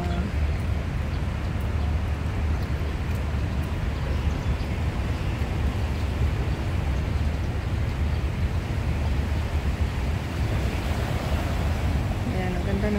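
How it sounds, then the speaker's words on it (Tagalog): Sea waves at a seaside in Tsing Yi, near a passing speedboat: a continuous broad wash of surf and wind noise, steady and fairly loud, with a faint voice now and then. "Ayan, ang ganda ng alon."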